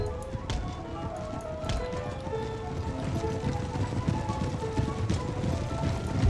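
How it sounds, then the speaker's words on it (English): Massed cavalry hooves drum in a continuous clip-clop from Empire: Total War, blended into a dense, steady battle din with faint background voices, moderately loud throughout. "Oh, more horse."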